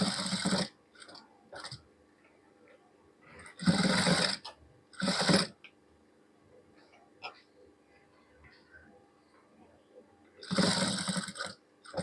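A sewing machine stitches a neckline in loud, close bursts of rapid whirring, three main runs separated by quiet pauses filled with faint handling noises.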